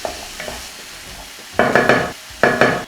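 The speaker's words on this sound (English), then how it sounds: "I'm just going to keep stirring this around for a further 2 minutes." Tomatoes sizzling in a pan while being stirred, a steady frying hiss broken by scraping spoon strokes that swell in short bursts near the end; no talking.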